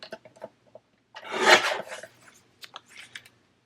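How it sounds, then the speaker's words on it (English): Scissors trim the top off a piece of paper for a journal cover: a few light snips, then one longer sliding cut, followed by small scattered clicks and rustles, close and quiet. "So I'm going to cut a little of the top off of that one."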